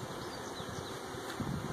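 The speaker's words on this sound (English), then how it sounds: "the best way to avoid crushing bees and damaging bees many times is to shake them off" Honey bees buzzing as they are shaken off a hive frame, a steady close hum with no talking.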